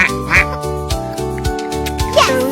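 A cartoon duck quacks in a children's farm-animal sing-along song, the quacks popping out over a bright tuneful backing of sustained instrumental notes.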